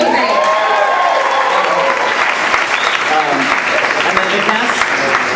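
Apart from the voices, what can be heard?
audience applauding on opening night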